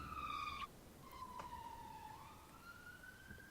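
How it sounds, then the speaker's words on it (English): An ambulance siren wails in the distance as it passes, its pitch sliding and wavering through a long falling sweep before rising again, faint against quiet background hum. "I was just pausing for that ambulance to go past."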